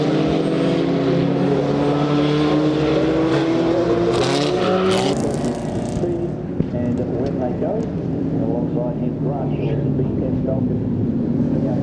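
Race cars roar past at a racetrack during a club event, engines droning loud and close before fading as they pass, with a commentator talking over the noise.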